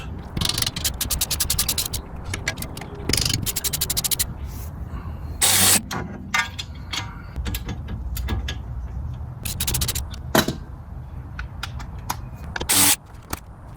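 Loosening 15mm hub bolts on a 2011 Jeep Grand Cherokee by hand with a ratchet instead of an impact wrench: bursts of rapid close ratchet clicking separated by short pauses, with scraping metal and sharp clanks between.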